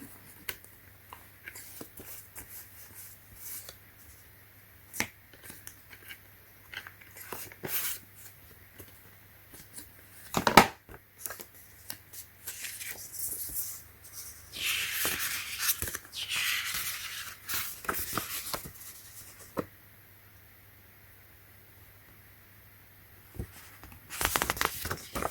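Paper pamphlet for an Apple Magic Keyboard being handled up close, with intermittent crinkles, taps and sharp rustles between quiet pauses and a longer burst of crumpling partway through.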